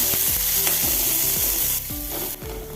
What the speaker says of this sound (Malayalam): കടുക് പൊട്ടി കഴിയുമ്പോൾ ഒരു വലിയ സവോള അരിഞ്ഞത് ചേർത്ത് കൊടുക്കുക